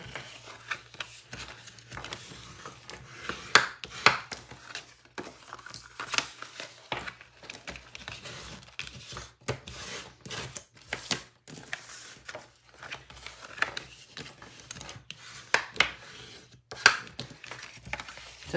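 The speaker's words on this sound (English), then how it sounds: "we are going to do a little bit of a trimming" Paper is trimmed for a handmade mini photo album, with quiet irregular snips and cutting clicks in a close, otherwise silent room.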